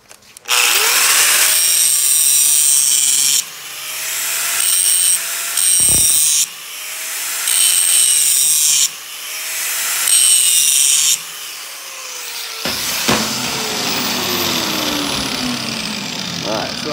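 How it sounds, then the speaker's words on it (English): An angle grinder cuts a 30 degree bevel and 1/8 inch landing on steel, loud whining bursts that start and stop repeatedly with brief pauses, ending in lower rough scraping. "straight pulls back with the grinder until I get the desired"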